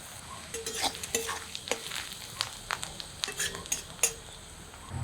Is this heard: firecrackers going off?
no